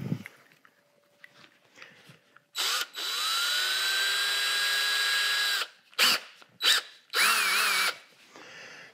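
A hand drill bores bat pin holes into a metal pottery wheel head in a long whining burst of several seconds, followed by three shorter bursts in quick succession, all loud and close.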